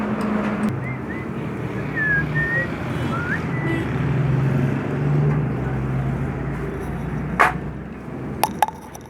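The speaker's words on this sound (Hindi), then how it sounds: "तो ये वापस किक भी लगाएंगे अभी।" A Honda 125 motorcycle engine runs at a steady idle with a droning hum and faint whistling tones, followed by a few sharp mechanical clicks near the end.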